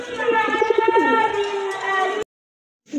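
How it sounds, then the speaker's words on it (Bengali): A pair of pigeons offered for sale coo in close, clear, repeated rolling calls that continue for about two seconds, then stop, and the sound resumes briefly at the very end. "খুবই সুন্দর এক জোড়া কবুতর"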